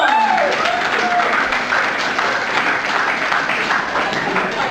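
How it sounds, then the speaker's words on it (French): An audience breaks into sustained applause, a dense and loud wash of clapping that stays level for several seconds with some voices mixed in. "Ok, applaudissements."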